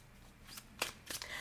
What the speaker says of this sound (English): let's go ahead and shuffle so we can start pulling cards for the signs